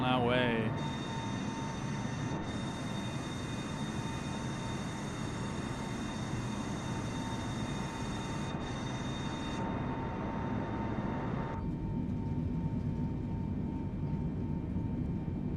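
Airliner engines at takeoff thrust during the takeoff roll in a flight simulator: a steady loud roar with a high whine that cuts off partway, continuing as a broadband rumble.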